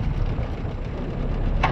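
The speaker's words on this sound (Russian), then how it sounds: "Мотор заведен." A small boat's outboard motor runs after being started, a steady low rumbling drone that holds close and even, with a brief higher burst near the end.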